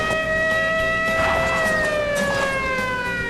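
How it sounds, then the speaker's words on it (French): A police siren wails in the Cars racing video game during a dirt-track chase, loud and steady with a rising and falling tone, close and continuous, with engine rumble under it. "déclenche la sirène, voilà exactement ça"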